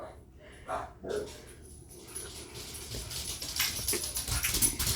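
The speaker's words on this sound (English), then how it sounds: "And the dogs are barking behind me." Dogs bark and yip in the distance, scattered barks rising in a busier chorus toward the end.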